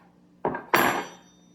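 A butter knife cutting through a thin rolled string of modeling clay makes two quick, close taps against a hard surface, the second slightly louder, in a quiet room.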